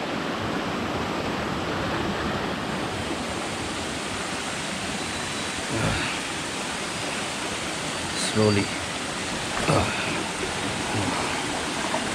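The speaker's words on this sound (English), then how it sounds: "There's running water." A stream of running water rushes steadily at a hiking spot, filling the scene with continuous broadband flow, while a person briefly speaks a single word over it.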